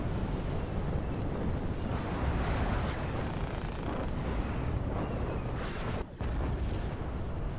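Continuous explosions and heavy rumbling as tanks are destroyed in a Star Wars mod of the strategy game WARNO, a dense, loud, roaring wash of blasts with one brief drop near the end.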